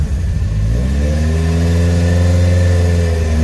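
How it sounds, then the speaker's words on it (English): A 1965 Ford Cortina GT500 engine revs up loudly and close, its pitch climbing smoothly and then holding at a strong, steady high note with no talk over it. "I'll just let you to hear it revving."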